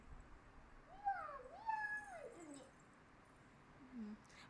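A small child imitates a cat, giving two quick rising and falling meows close by, followed by a short, lower sound after a pause, in a quiet room.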